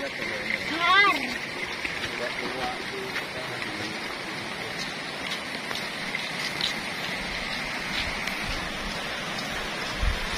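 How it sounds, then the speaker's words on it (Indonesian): Clear river water babbles steadily through a forest near a remote village, a continuous soft rushing and trickling that fills the background at moderate level, with a brief bird-like chirp early on. "ini suara gemericik air sungai"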